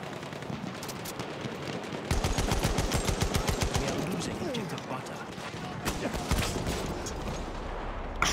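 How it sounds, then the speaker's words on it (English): Rapid machine-gun bursts crackle in Battlefield 1 World War One combat, a steady stream of sharp shots that starts abruptly after two seconds, with scattered single reports later and voices murmuring beneath. "We're shooting that guy."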